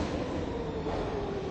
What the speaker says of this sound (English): So I'm getting back on the Q train now.